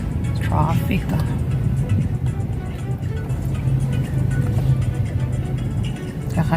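Steady low road-traffic rumble inside a car, heard as a continuous engine and tyre drone throughout, with people talking over it.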